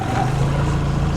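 A small inflatable boat's outboard engine runs at a steady low drone on a river, close and continuous, with a voice briefly audible.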